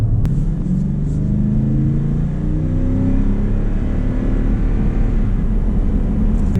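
A 2019 Toyota Sequoia Platinum with a six-speed automatic accelerating, engine drone rising in pitch through the gears, heard steadily from inside the cabin.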